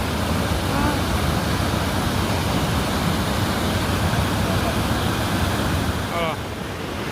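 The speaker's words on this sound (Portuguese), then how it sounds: "Vamos ver a famosa cachoeira dos pretos ali." Cachoeira dos Pretos waterfall rushes in a loud, steady roar that fills the whole stretch, with faint birdsong chirps over the constant wash of water.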